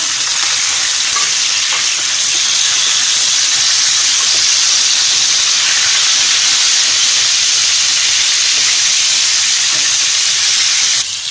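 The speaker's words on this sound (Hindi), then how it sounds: "अब इसके अंदर हम ये चिकन ऐड करेंगे।" Chicken pieces hit browned onions in a hot pan, setting off a loud, continuous sizzle with hissing steam that holds steady throughout, with no voices.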